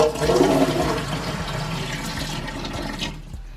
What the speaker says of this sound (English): right now we're going to be filling up her water bowl